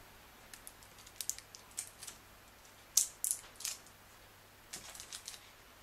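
Thin shipping plastic is peeled off a new Samsung Galaxy S II phone, making faint crinkles, small ticks and a few sharper tearing crackles close by in a quiet room.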